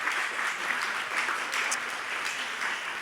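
Steady audience applause at a museum round-table event, a dense even patter of many hands clapping at moderate level, continuous for the whole stretch with no voices over it.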